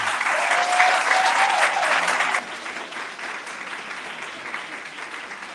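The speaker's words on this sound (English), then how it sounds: "could you give applause for them one more time?" Audience applause in a mosque gathering, loud and dense for about two seconds, then dropping to lighter, thinner clapping that continues steadily to the end.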